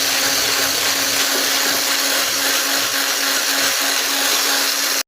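An electric mixer whisks eggs and sugar for a cake, a loud, steady, close motor whir with a constant pitch that runs unbroken and then cuts off abruptly at the end.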